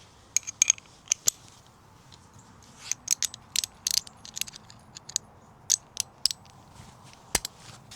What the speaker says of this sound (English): A ratchet, an extension, and a 10mm socket.